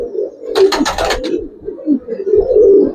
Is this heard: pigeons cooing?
yes